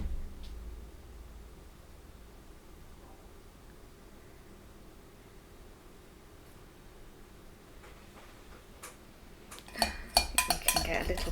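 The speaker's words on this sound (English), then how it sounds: "Let's scrape some more chocolate off." Chocolate is scraped off with a utensil; a low, quiet scraping bed gives way near the end to a brief cluster of clinks and clatters of metal against a dish.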